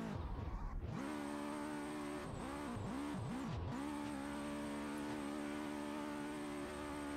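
A stock car drifting in the video game Drift Paradise, engine revving hard with repeated rising and falling swoops as the throttle is blipped, over a constant tire hiss and a high whine, fairly faint with no talk.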